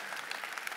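A brief burst of audience applause at a mentalist's stage show, steady crowd clapping heard at moderate distance.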